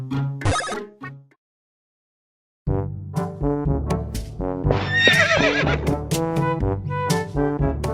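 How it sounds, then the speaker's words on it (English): A horse neighs in a Miitopia video game cutscene, a short whinny, then a pause of silence, followed by a longer drawn-out neigh over cutscene music. "we're going to see a cutscene of Knuckles and the horse."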